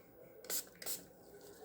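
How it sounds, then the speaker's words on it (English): Two quick, soft spritzes from a spray bottle over resin in a hand-moulded Christmas craft mould, brief airy hisses close by in an otherwise quiet room. "Give this another spray."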